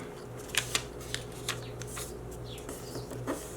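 Paper being folded and creased for an origami popsicle, with crisp crackles and short rustles over a quiet steady hum, close and fairly faint.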